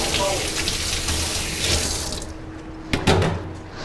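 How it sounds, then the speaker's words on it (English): Tap water runs steadily while something is rinsed off at a sink in a bakery, broadband rushing that eases after about two seconds, followed by a few clunks and splashes near the end. "I'm going to rinse this off."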